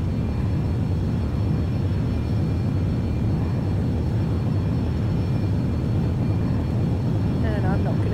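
Boeing 737 jet engines at takeoff power in X-Plane 11 give a constant, loud, low roar during the takeoff run, with a voice talking over it.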